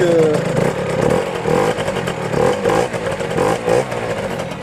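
A cold motorcycle with a carburettor idles unevenly just after a kick start, with loud, close, throbbing engine noise and light mechanical clatter and small surges in revs.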